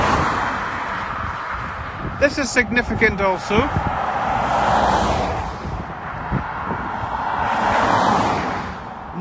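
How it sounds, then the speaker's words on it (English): Road traffic passing near a countryside road between Durris and Drumoak, a broad rushing swell of vehicles going by, loud and close, with someone speaking briefly over it in the middle. "Noisy with the traffic."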